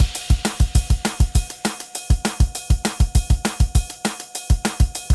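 Dry, unprocessed drum track from a drum VST with its internal processing removed, a steady pattern of separate kick, snare and hi-hat hits that sound thinner and more open, with no voices.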